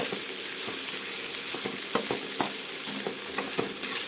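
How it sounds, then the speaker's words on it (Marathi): Okra sautés in a pan with Maggi masala and tomato, a steady close sizzle broken by intermittent scraping and stirring knocks from a spatula. "छानपैकी भेंडी परतून झाली की आपण त्यामध्ये आपला मॅगी मसाला त्याचबरोबर टोमॅटो या ठिकाणी घालून घेणार आहोत"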